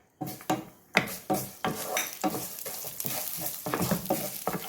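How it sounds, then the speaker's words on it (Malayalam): Vermicelli roasting in ghee in a pan, heard as repeated stirring scrapes and clinks of a utensil against the pan over a steady low sizzle, close and fairly loud with no talking. "ഇതിലേക്ക് ഞാൻ 1/4 കപ്പ് വെർമസല്ലി എടുത്തിട്ടുണ്ട്. അതിട്ടൊന്ന് റോസ്റ്റ് ചെയ്ത് കൊടുക്കാം."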